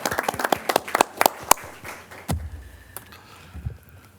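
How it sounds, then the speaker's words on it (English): Board meeting attendees at a San Diego pension board session giving a short burst of scattered clapping that thins out and stops after about two seconds, leaving quiet room tone with a few faint knocks. "Should we all clap? Congratulations."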